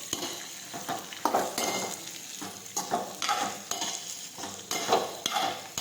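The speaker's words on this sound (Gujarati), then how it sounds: "ફરી પાછું આપણે સાંતળી દઈશું।" Stuffed okra with spices sautéed in a pan over a low gas flame: repeated scraping stirs of a spoon against the pan over a soft, steady sizzle, fairly close and moderately quiet.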